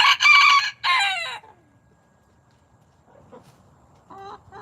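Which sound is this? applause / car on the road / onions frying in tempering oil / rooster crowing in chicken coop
rooster crowing in chicken coop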